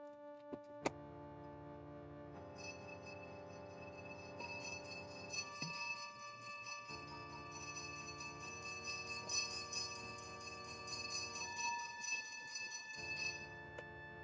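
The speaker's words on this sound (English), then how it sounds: "I keep forgetting that the bell rings about this time" A bell rings through open windows, sustained tonal chiming with a rhythmic ticking pattern, faint and distant, pausing briefly twice before resuming.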